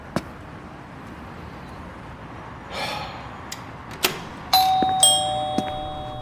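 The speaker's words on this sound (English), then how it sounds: "the sound of the alert chime making my skin prickle" A door alert chime rings out clearly, a bright electronic tone that sustains briefly after a few clicks and knocks, heard close in a quiet room.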